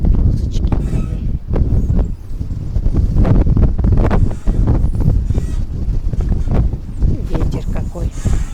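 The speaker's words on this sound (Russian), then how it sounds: "Ветер какой." Gusty wind buffeting the microphone outdoors in a village on an overcast, rainy day, rumbling and flapping in uneven bursts, with a voice speaking over parts of it.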